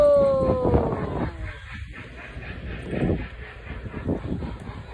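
A train runs through a forest, rumbling along in uneven rhythmic surges, with a brief high whistle-like tone near the start; no voices.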